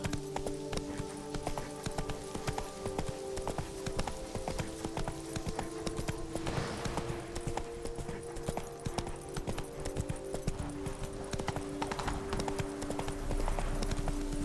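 Horse hooves clip-clop steadily in The Witcher 3, a regular trotting rhythm close and clear throughout, with ambient game sound and background music underneath.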